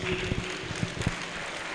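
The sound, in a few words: audience applause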